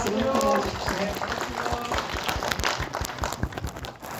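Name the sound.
audience applause welcoming council members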